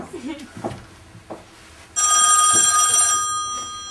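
An old-style telephone bell rings loudly for about a second, then breaks off. Brief talk is heard before it and a faint tail follows.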